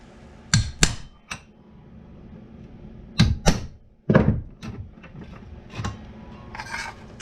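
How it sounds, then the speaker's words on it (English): Sharp metallic hammer blows punch a trap part into a Cushcraft A3S antenna during trap cleaning, struck in small clusters of two or three close, loud impacts separated by quieter pauses. "And we'll take a bigger hammer here."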